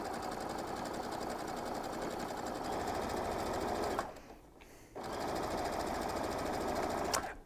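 A sewing machine top-stitches a drawstring bag, running in a loud steady rapid whir that stops for about a second midway, then resumes and runs on.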